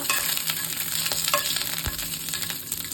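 Bay leaves and green chillies, added after star anise, sizzle steadily in hot oil in a pan over a low flame, a continuous close frying hiss with occasional stirring clicks and no talking.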